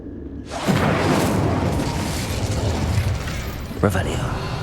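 A burst of roaring flame from the Incendio fire spell in Hogwarts Legacy flares up after a short quiet lead-in and holds loud and full for several seconds, with a second crackling flare near the end.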